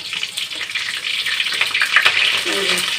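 Pointed gourd (potol) fries in mustard oil with a dense, close crackling sizzle throughout, and a faint voice is heard briefly near the end.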